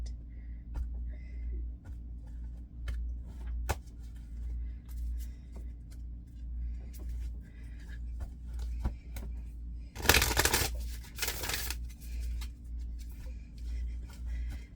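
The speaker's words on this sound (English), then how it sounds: "Extra shuffling." A never-before-used deck of tarot cards is shuffled: a brief, dense papery riffle bursts out over a steady low room hum and quiet ticking, with no talking.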